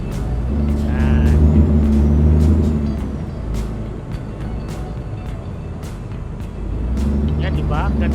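A truck engine drones and rumbles while driving in Euro Truck Simulator 2, with a hiss of air brakes and short tonal cues. Someone talks over much of it.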